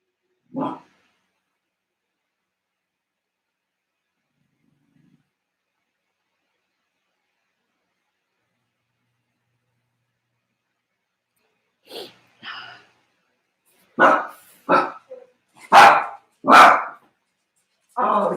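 A dog barks once early on, falls quiet for a long stretch, then lets out a quick run of six or seven close, fairly loud barks near the end.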